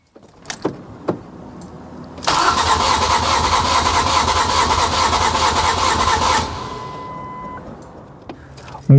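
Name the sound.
Ford Mondeo Mk3 engine cranking during compression test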